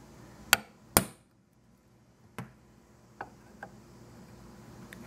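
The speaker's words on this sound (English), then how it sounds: "all you do is that you just use a hammer and you just tap, punch it in" Sharp hammer taps drive a welch plug into the carburetor of a Briggs & Stratton 6.5HP lawn mower, with two loud close strikes followed by several lighter, spaced taps against a quiet background.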